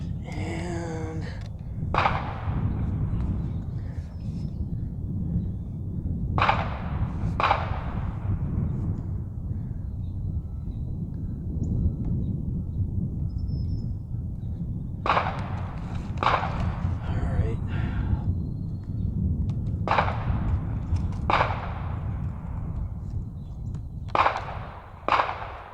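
Rifle shots fired from a bench during a 416 challenge, a series of loud, sharp cracks spaced several seconds apart, some in quick pairs, over a steady low rumble of background noise.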